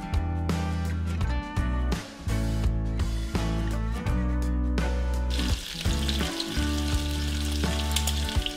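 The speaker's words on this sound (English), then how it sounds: "the first thing we're going to do is cook up some bacon" Bacon frying in a pan as the first step of a kielbasa recipe, with a steady close sizzle and crackle running throughout and a few clanks of stirring in between.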